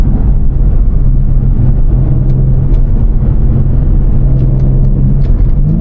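A BMW M3 Competition pulling hard on a street, heard from the cabin as a loud, dense engine and road rumble with a steady low drone and no breaks.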